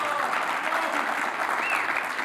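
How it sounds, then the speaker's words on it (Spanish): Audience applause at a NASCAR event in Mexico honoring a champion driver, a continuous dense crowd clapping heard from a distance, with faint voices mixed in. "Les pido un gran aplauso para Daniel Suárez, por favor."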